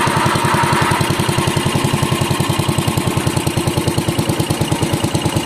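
A Bolens garden tractor engine runs close and loud with a steady, fast thumping pulse, holding an even idle throughout with no voices.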